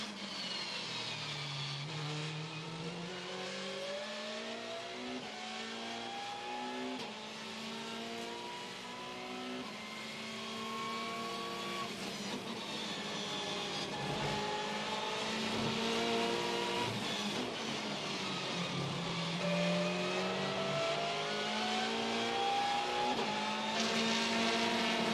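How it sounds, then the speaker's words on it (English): Onboard a WTCC touring race car lapping the Moscow circuit, the engine wails and climbs through gears with repeated upshifts and downshifts, steady and close, with brief tire noise. "we will hopefully have an onboard lap with Rob Huff"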